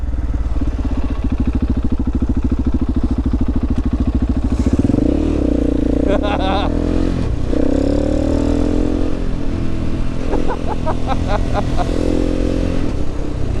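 A heavily modified KTM 690 motorcycle engine runs loud and close, idling steadily before revving up in several throttle bursts with clattery mechanical noise, and a voice is briefly heard over it.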